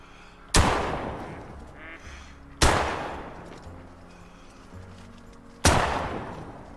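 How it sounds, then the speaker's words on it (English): Three loud, sharp shotgun blasts go off in theHunter: Call of the Wild duck hunt, spaced a couple of seconds apart, each with a long decaying echo over quiet outdoor ambience with faint duck calls. "we're going to go ahead and get the shotgun out"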